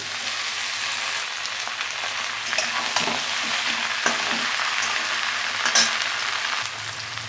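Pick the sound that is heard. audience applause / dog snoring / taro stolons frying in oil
taro stolons frying in oil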